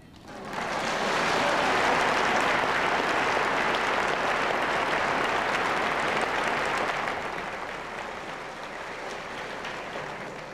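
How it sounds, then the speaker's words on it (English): Large audience at a 1993 celebration ceremony in Honolulu, Hawaii, bursting into sustained applause that swells quickly, holds loud for several seconds, then gradually tapers off. "No applause?"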